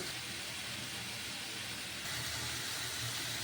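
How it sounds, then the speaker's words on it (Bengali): Eggs frying in a spice paste in a pan, giving a steady, even hiss that runs unbroken through the whole stretch with no voices. "এখন আমি এই মশলার ভিতর ডিমটাকেও ভালোভাবে কষিয়ে নিব"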